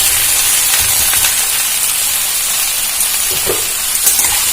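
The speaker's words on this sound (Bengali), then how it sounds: "এটা কিছুক্ষণ ভেজে নেব।" Loud, continuous hissing sizzle of vegetables frying in a pan, close up, with occasional soft stirring knocks underneath.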